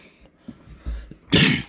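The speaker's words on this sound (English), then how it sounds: "Coughing already." A person coughing indoors while setting up a TT gauge model railway layout, with a few faint throat sounds leading to a single loud, harsh close cough at the end.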